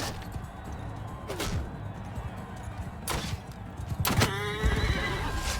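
A horse whinnies loudly several times in Mount & Blade II: Bannerlord, with hoofbeats clopping beneath and a sharp hit near the end.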